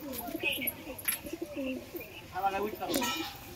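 Pigeons just released, mixing low rounded coos with brief bursts of wing flapping; the calls rise and fall close by, with a person talking over them.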